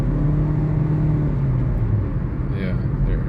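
A Kia engine with a P0867 transmission fluid pressure fault runs under throttle, giving a steady, loud, close low rumble and whir with only a slight rise in revs throughout.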